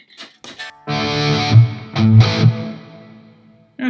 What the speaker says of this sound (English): Yeah, classic plate reverb.